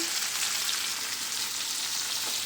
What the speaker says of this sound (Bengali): ফোড়ন দিয়ে পেঁয়াজটা দিয়ে দিলাম